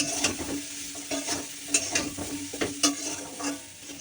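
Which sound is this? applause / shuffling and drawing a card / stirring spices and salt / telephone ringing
stirring spices and salt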